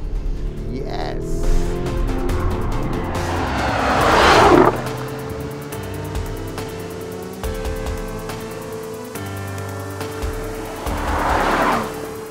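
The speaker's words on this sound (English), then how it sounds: "this one is force-fed by twin turbos, and those twin turbos feed those 8 cylinders quite nicely" Lamborghini Urus twin-turbo V8 revving on a high-altitude mountain road, two strong swelling bursts of engine roar separated by a steadier drone with tonal whine, close and loud.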